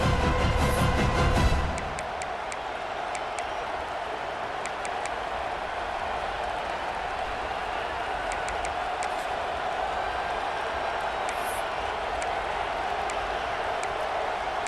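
A stadium crowd at a college football game against Texas sends up a loud, sustained roar that swells in the opening seconds and then settles into a steady wash of distant cheering.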